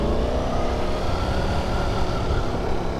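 Ducati Streetfighter V4S in race mode, a loud, dense V4 engine roar revving hard and continuously at close range, heard alone without voices.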